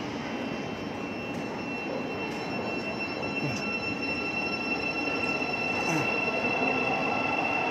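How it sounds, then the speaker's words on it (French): A steady rumbling train noise fills a large reverberant station in London, with faint metallic squeals and clanks over a constant roar. "Le train de Londres."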